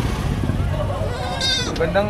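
Goats bleat at an outdoor livestock market, a mother goat with two kids, with a few wavering bleats rising over background chatter and nearby engine noise.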